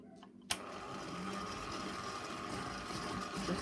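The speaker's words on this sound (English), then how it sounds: "then we can whisk this up" An electric whisk beating lemon mousse mixture starts abruptly with a click and then runs as a steady whirring drone, close and moderately loud, with no talking.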